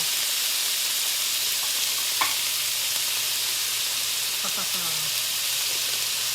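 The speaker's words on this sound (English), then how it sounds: "Ooh, listen to that sizzle." Meat for nachos hisses and sizzles steadily in a hot pan, a soft continuous crackle with a few faint clinks of utensils.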